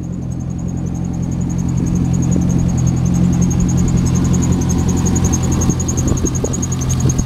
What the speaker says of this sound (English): Give you a look at the engine while it's running